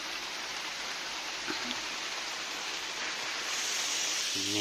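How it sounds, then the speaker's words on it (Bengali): Rain that has just started falling under a cloudy sky, a dense, even hiss filling the whole stretch at a steady level, with a faint tonal sound creeping in at the very end. "এই যে বৃষ্টি একদম আরম্ভ হয়ে গেছে"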